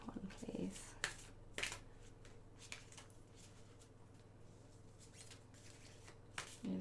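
Large tarot cards being shuffled by hand, soft riffling bursts and slaps near the start and end with quieter rustling between, close and fairly faint.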